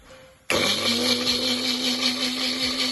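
Electric mixer grinder switching on to grind a dry spice mixture with green chilli into paste: after a quiet start, a loud, steady high-pitched whirring motor drone runs continuously to the end, with no talking.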